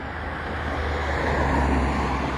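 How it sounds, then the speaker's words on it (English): A car approaching on a road, a broad low rumble of tyres and engine that swells gradually as it draws nearer, fairly close and steady, with no talking over it. "I think I hear a car coming"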